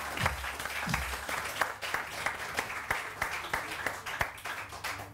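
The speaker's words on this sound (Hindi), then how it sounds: "तालियां।" Studio audience applause on a morning television show, a lively, continuous patter of clapping at moderate volume with distinct individual claps standing out.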